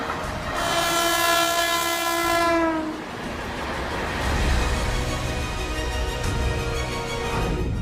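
A long, loud horn from an Indian Railways train sounds over the rumble of the passing cars, holds for a few seconds, then fades, leaving continuous rolling wheel noise close by.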